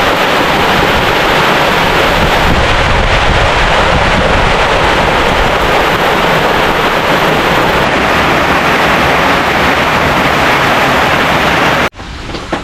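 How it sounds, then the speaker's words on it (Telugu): Steady rain pours down during a monsoon trek to Kalavantin Durg fort in Maharashtra, a loud continuous hiss with gusty wind, ending abruptly. "సో వర్షం అయితే స్టార్ట్ అయింది."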